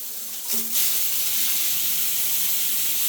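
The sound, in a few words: shower running wide open in a wet bath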